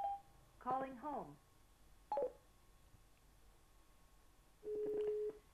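Short electronic dialing tones and beeps from a smartphone as Siri places a call home through a Cardo PACKTALK Bold motorcycle intercom, with a brief synthetic voice between the tones.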